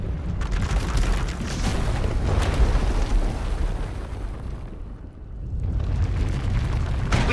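A surge of runaway power erupts in Star Wars: The Old Republic: a heavy, booming explosion rolls on as a long, loud rumble, briefly thins and dips, then swells again.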